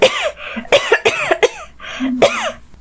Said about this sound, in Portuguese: Há quanto tempo você está com essa tosse?